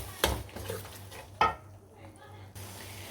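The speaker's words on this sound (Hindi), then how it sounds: "दही को करेंगे हम अच्छे से इसमें मिक्स और अच्छी तरह से हम इसे भून लेंगे" Spinach and yogurt cooking in a pan make a close, soft sizzle. Two sharp clanks of a spoon against the pan break through, followed by quieter scraping strokes.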